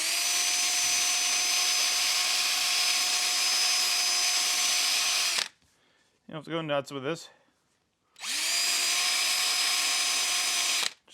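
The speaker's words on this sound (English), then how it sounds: "Just got a little wire wheel here and drill." A drill spinning a small wire wheel to clean the threads of a Sportster front pulley, a loud steady whine that runs for several seconds, stops for a brief spoken remark, then starts again.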